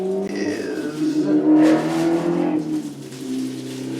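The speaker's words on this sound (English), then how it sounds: "motorcycle going by outside" A motorcycle passes outdoors, heard from inside a room as a steady engine drone that swells toward the middle and then eases off, loud and continuous throughout.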